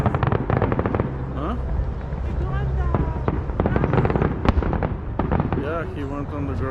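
Fireworks burst in the grand finale display of Global Fest 2024 at Elliston Park, Calgary, a dense run of loud crackling pops and sharp bangs over a low rumbling backdrop, with crowd voices talking underneath.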